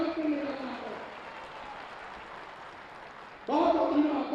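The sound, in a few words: crowd applauding the chief minister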